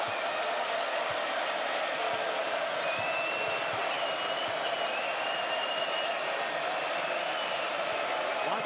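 Steady, dense crowd noise and applause fill a college basketball arena during a Baylor at TCU game, a continuous roar with faint sneaker squeaks and ball thumps beneath.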